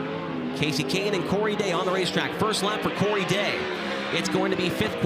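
Sprint cars from Kubota High Limit Racing run their first lap at Kings Speedway. The engine whines rise and fall under continuous announcer commentary, with occasional sharp knocks and tire noise.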